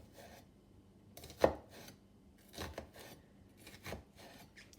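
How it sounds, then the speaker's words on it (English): Knife cutting an onion on a board, a few separate slicing and scraping strokes with one sharper knock against the wood, spaced irregularly in a quiet room. "Then we're going to take our onion and we're going to cut again,"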